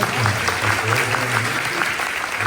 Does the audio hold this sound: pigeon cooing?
no